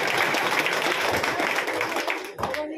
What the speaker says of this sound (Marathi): चला भैयासाठी जोरदार टाळ्या.